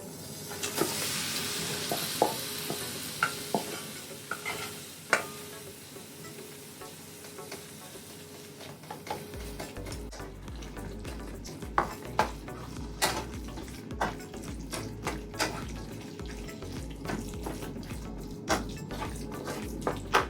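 Spiced taco meat sizzles steadily in an oiled pan, with frequent scraping and clinking as it is stirred, close and continuous throughout with no talking.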